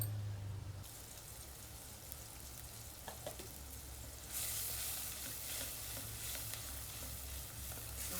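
Masala spices with Kashmiri red chilli fry in hot oil for a soya chunks curry, giving a continuous close sizzle with scraping stirs that grows louder and brighter partway through.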